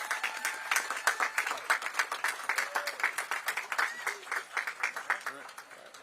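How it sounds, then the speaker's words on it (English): Scattered individual claps ring out in a distinct pulsing rhythm at an Earth Day and Arbor Day award ceremony, moderately close, a smallish crowd applauding with separate hand strikes audible over several seconds. "Can you give a round of applause for them"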